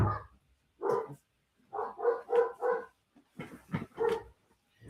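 Indoor dogs bark repeatedly at someone outside, several loud close bursts in uneven clusters separated by short silences.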